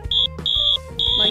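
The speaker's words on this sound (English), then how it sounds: "That's a fire alarm." A fire alarm sounds at close range during a Thanksgiving mishap at home. Three shrill high beeps come in quick succession, with talking underneath.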